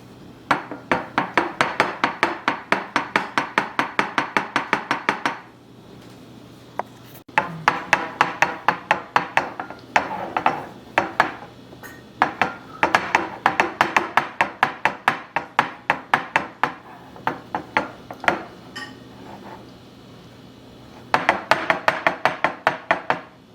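Rapid bursts of sharp plastic-and-glass clicking and rattling from a faulty Member's Mark Glasslock food container lid locking, repeated in quick runs with short pauses between them, close up and with no voices.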